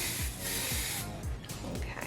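A spray bottle misting hair: a continuous hissing spray runs for about a second, followed by a softer, broken spray, with low thumping sounds underneath throughout.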